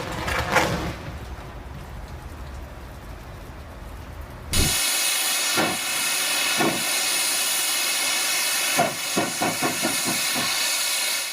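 Steam locomotive JS8225 labors out of a coal pit at Sandaoling with a heavy load. A low rumble gives way to loud, continuous hissing, broken by irregular, forceful chuffs.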